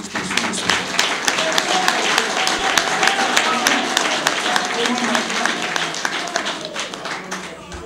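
A crowd claps for President Tshisekedi at a political gathering, sustained loud applause with sharp individual claps standing out from the dense mass of hands.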